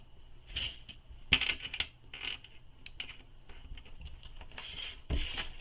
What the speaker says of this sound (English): I'm just going to add some clips on the side so that this side doesn't slip over as I'm sewing in my zipper.